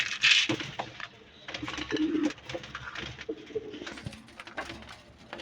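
Pigeons cooing during feeding alongside chickens in winter, soft throaty coos mixed with pecking and scratching clicks close by, a person talking intermittently.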